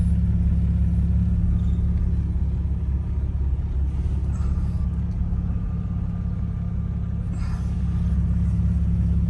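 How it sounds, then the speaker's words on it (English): A 2004 Jeep TJ Rubicon engine idles through an aftermarket glass pack muffler exhaust, giving a steady, loud, deep rumble that holds constant throughout. "This isn't the stock exhaust. It has what was called a glass pack muffler."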